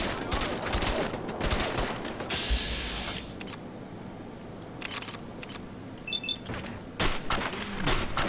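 Shotgun blasts ring out in Fallout 4 combat, a series of sharp, loud reports with mechanical clicks and rattles between them, scattered irregularly amid other game noise and with no talking.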